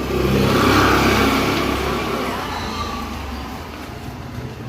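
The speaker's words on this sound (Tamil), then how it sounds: "இதே வண்டி வருது" A car engine rises steadily then fades as the vehicle approaches and moves past, heard at a moderate distance during a Pongal celebration outdoors while people talk faintly nearby.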